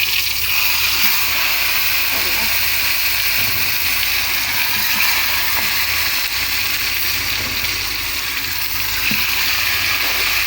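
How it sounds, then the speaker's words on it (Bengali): Koi fish fry in a kadai, giving a loud, unbroken hiss of bubbling oil that holds level throughout. "এই যে কড়াইতে মাছগুলো ফ্রাই করে নেব"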